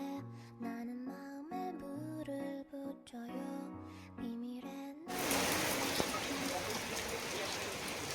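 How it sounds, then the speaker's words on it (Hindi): Heavy rain pours down in a dense, steady hiss that starts abruptly partway through, after a stretch of soft melodic music, and continues loudly to the end. "करीब 2 घंटे से बारिश हुए जा रही है"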